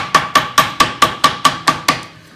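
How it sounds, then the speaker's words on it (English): A hammer taps around the edge of gasket paper with nine even, sharp metallic strikes in a steady quick rhythm, loud and close with a short ring after each blow and no talking. "get the hammer, gasket paper, and start hitting around the edge"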